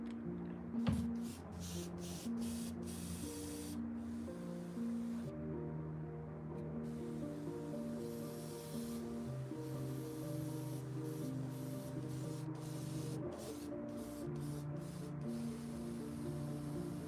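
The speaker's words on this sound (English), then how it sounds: "I feel like I'm spraying all right." A steady hiss of spray paint on a Goku figure running continuously, broken by brief gaps, with a low hum underneath.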